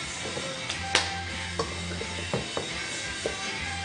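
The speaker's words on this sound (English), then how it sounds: "I think we need to stir it now." Food being stirred in a pot gives quiet scraping and a handful of sharp clinks of a utensil against the pot at irregular intervals, over a low steady background hum; no voices.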